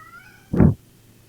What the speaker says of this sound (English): Cat hungry.